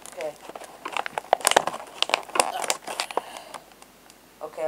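Close crinkling and crackling of plastic packaging being handled and pulled while unboxing a Jazwares 3-inch Sonic figure, in irregular bursts with faint talk mixed in.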